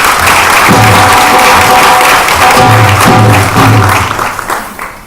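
An audience at a Diwali stamp dedication ceremony at the United Nations applauds: dense, loud sustained clapping across the room, tapering off at the end.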